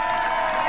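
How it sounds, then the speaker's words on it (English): A crowd of football fans claps and cheers for a player, a brief dense burst of mixed clapping and crowd noise. "That's how they clap for him."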